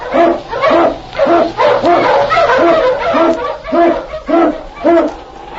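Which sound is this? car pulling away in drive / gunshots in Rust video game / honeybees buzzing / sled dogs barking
sled dogs barking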